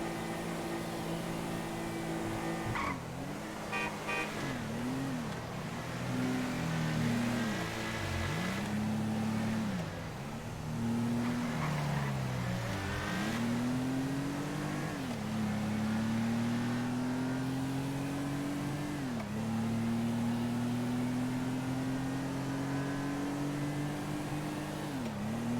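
Engine of a car in the game GTA roleplay whines through repeated gear shifts, its pitch climbing, dropping and climbing again as it accelerates, steady and fairly loud throughout.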